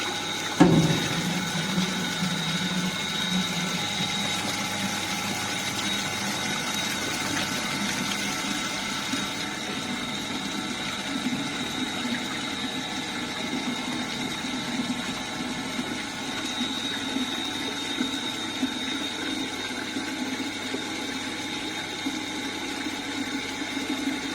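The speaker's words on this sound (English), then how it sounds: "So now we will collect the water in water storage tank for next 30 seconds." Water runs steadily into a storage tank on a Bernoulli theorem lab apparatus, a continuous even rush with a pump or motor hum underneath, unbroken and fairly close for the whole stretch.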